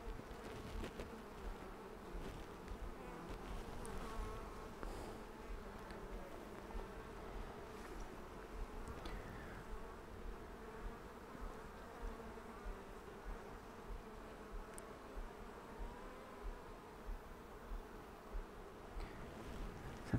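Honey bees from a Flow Hive split hum in a dense, continuous buzz throughout a brood inspection, soft and steady, with faint rustling and no voices.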